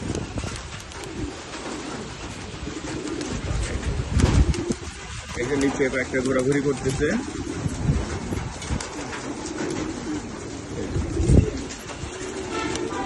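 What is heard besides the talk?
pigeons cooing in a shed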